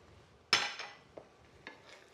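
A spoon clinks and scrapes against a bowl while stuffed tomato filling with pine nuts and raisins is mixed, a sharp knock followed by a few softer scrapes, close and quiet.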